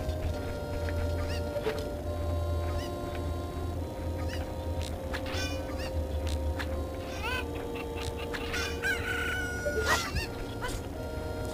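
Chickens in Zelda: Ocarina of Time cluck and squawk in scattered bursts over steady game music and ambience, with a brief crow-like call near the end.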